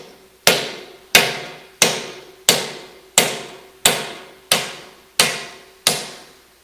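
Hammer blows imitating a hydraulic hammer machine slamming down on a car seat: nine loud, sharp strikes at an even, steady pace, each ringing briefly before the next, with no other sound.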